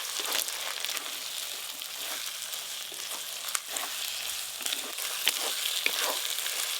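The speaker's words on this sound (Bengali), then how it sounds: "রসুন বাটা, আদা আর কাঁচা লঙ্কা বাটা, সব কিছু ভালো করে একসঙ্গে আরেকটু ভাজবো।" A close, continuous sizzle of garlic, ginger and green chilli paste frying in hot oil, with occasional crackles and stirring scrapes.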